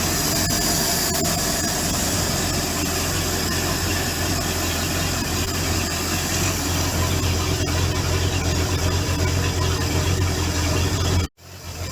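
A boat engine runs steadily during winterizing, a continuous loud idling drone with a constant low hum that cuts out abruptly near the end.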